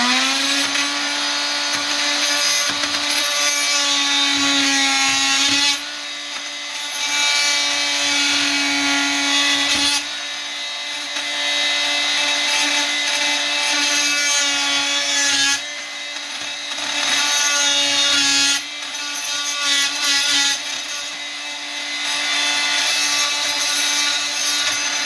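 Holes are drilled and then joined with a small saw to cut through a sailboat's interior bulkhead, giving a long, loud grinding whine that runs in several extended bursts with brief pauses between them.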